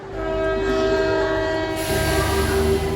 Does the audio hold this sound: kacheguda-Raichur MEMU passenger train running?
yes